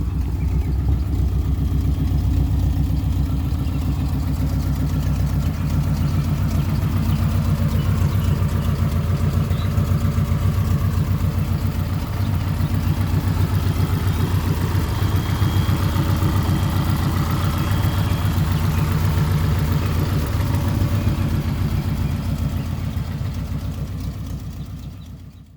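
A car fitted with a Tanabe Touring Medallion exhaust idles steadily, a low, even rumble that holds without change for about 25 seconds, close and alone with no talking.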